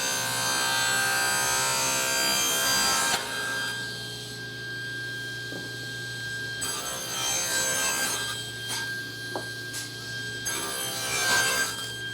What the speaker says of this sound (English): let's finish cutting these tenons